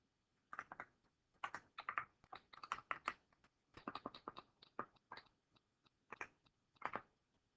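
Typing on a keyboard to enter an integral, with quick, close clusters of crisp key taps in irregular bursts separated by short pauses, no voices.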